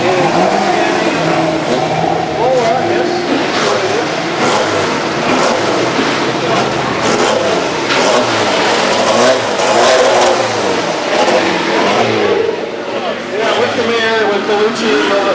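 A Formula 5000 race car, a UOV Shadow, revs its engine during a race car parade at a concours d'elegance, loud and continuous across the whole stretch, with a commentator talking over it.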